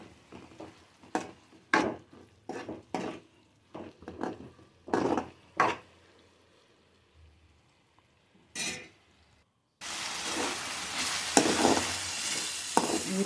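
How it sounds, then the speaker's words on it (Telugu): Ridge gourd and moong dal curry frying uncovered in a pan in a village kitchen, with intermittent stirring scrapes and bursts, then a louder steady sizzle near the end; no talking. "పెసరపప్పు బీరకాయ ముక్కలు మెత్తబడ్డాయో లేదో చూసుకుని ఈ నీరంతా ఆవిరైపోయే వరకు మూత లేకుండా ఒక 5 నిమిషాలు ఫ్రై చేసుకోవాలి."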